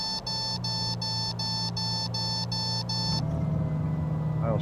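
Carenado PA34T Seneca V flight simulator warning for low throttle: about eight evenly spaced, loud electronic beeps over a steady engine drone, then the beeping stops and the drone continues.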